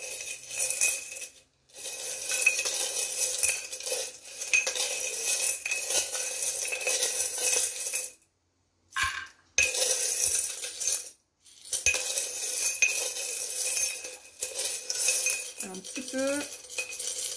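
Metal charms clink and jingle as they are shuffled and drawn, in dense rattling bursts broken by a few short pauses, with no talk over them.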